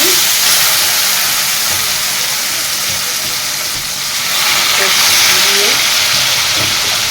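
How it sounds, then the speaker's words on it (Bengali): Hot oil tempering with fennel, bay leaf and dried chilli is poured into boiled taro greens, producing a loud, continuous steamy hiss that swells briefly partway through. "প্রথমে মৌরি, তারপরে তেজপাতা ও শুকনো লঙ্কা ফোড়ন দিয়ে এবার সেদ্ধ করা কচু শাকটার মধ্যে ঢেলে দেবো।"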